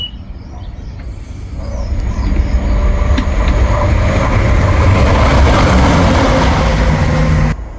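Train passing by outdoors, a loud rumbling roar that swells after the opening seconds and holds steady, with faint rattling and screeching, then cuts off near the end.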